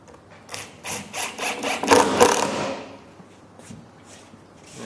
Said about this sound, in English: just drive the other screws in to finish it off